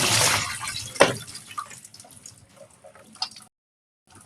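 Water rinsing sliced plantain, splashing and dripping close by with a sharp splash near the start, then scattered trickles that trail off into silence.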